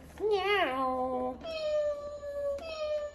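A cartoon cat meows twice, the first a long wavering cry and the second a steadier drawn-out call, close and clear with no talk over it.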